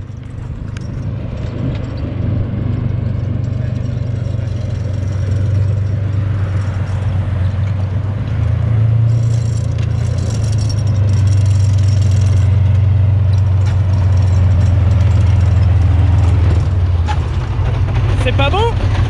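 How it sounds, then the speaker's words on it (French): A tank's engine drones steady and low in Hungary, holding a constant rumble that swells slightly over the length, with people talking over it. "je sais pas si vous entendez le petit bruit du moteur juste derrière"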